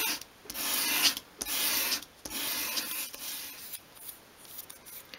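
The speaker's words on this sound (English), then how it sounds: "So just a few sweeps and it will start to bevel off." Short sweeping rubbing strokes as the edge of a 1/12th scale miniature mirror frame is bevelled, four or five close, even rasps separated by brief pauses, with no talk.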